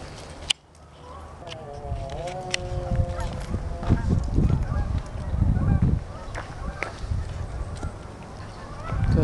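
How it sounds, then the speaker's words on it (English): Geese honk repeatedly outdoors in a string of loud nasal calls, some close and some farther off, over background rustle, with a person talking partway through. "Those geese, huh?"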